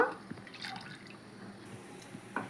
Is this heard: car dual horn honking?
no